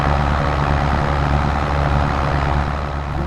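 A deep, steady tractor engine in Farming Simulator 22 idles loudly and evenly throughout, a low heavy rumble with no breaks or voices.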